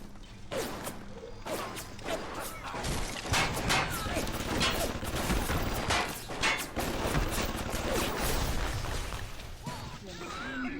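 Sentry turret gunfire in Bioshock Remastered: dense, continuous rapid bursts of loud shots and mechanical clatter that fill the whole stretch, with game noise around them.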